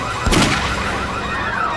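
A single sharp gunshot in a Hindi CID crime drama set in a cursed forest, loud and close, followed by a long ringing, swirling decay in the background.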